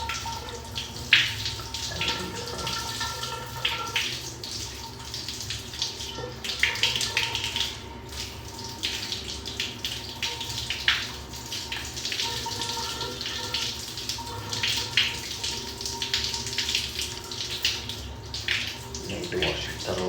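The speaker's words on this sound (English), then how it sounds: "Now we need to wash it with normal water." Tap water runs continuously into a basin while something is washed, a steady splashing gush with small fluctuations throughout, and a voice speaks faintly over it.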